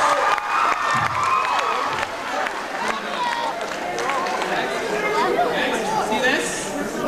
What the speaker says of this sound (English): So everybody clap for girls.